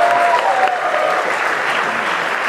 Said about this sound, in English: clap for Analog